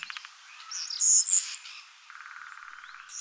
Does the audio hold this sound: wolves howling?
no